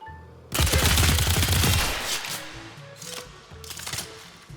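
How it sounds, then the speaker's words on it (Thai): Rapid burst fire from the Nagantaka Prime crossbow in the Warframe video game: a dense, loud volley of shots unloads the remaining magazine in about a second and a half, followed by fainter scattered impacts and clatter. "นาการตะกะพรามก็ยังมีรูปแบบการยิงพิเศษที่เรียกว่า Burst Shot"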